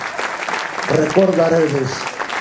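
An audience applauds for a musician at a musical tribute event, a broad wash of clapping that swells in the middle, with a voice speaking over it.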